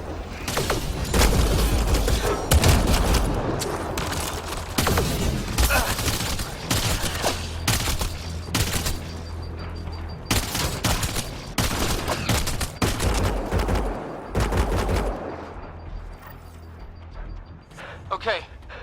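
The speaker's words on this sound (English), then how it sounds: "Naya, shoot it!" Sci-fi combat in the game Mass Effect Andromeda: loud, dense volleys of rapid gunfire in repeated bursts with short gaps, continuing for a long stretch amid battle noise.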